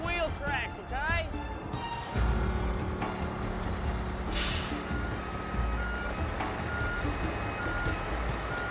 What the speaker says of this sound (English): we're gonna back up and you gotta follow in our tracks